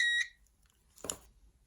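Digital multimeter set to continuity on a guitar amplifier repair bench gives a short, bright electronic tone of about a quarter second at the start, followed by faint handling clicks.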